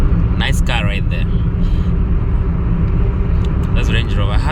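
A car passes close on a Nairobi street with a steady low engine and road rumble throughout, while other traffic noise and a voice sit over it.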